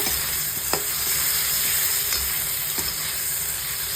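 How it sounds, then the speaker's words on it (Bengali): Potatoes frying and being stirred in a pan while katla fish kalia is cooked, giving a steady loud sizzle and hiss with a few sharp utensil scrapes and clinks, no talking. "আলুটা দিয়ে দেব আলুটা দিয়ে একটু কষিয়ে নেব"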